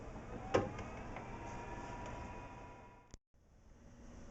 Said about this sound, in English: I'm going to slide this into my Yudu machine and press the fan